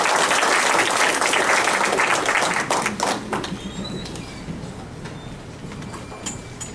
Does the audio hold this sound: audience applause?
yes